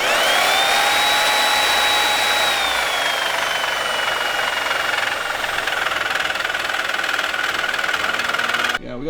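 A Bosch power tool cuts through a car's steering rack with a loud, continuous, close grinding whine. Its pitch sags slightly under load before stopping abruptly at the end.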